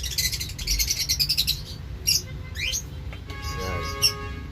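Pet breeder birds kept indoors chirp and squawk close by, giving a burst of rapid repeated tweets followed by scattered sharp calls and a few rising whistles over a low background hum.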